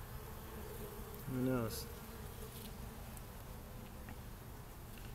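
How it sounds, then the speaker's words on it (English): Honeybees buzz faintly around an opened backyard beehive during an inspection, a soft steady hum with one closer, louder drone passing briefly, and a person speaks quietly over it. "Hey, what are these two bees doing down here?"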